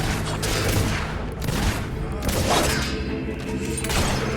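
Gunfire during a castle siege in a video game: dense, loud volleys of rapid shots and heavy booms that come in overlapping waves.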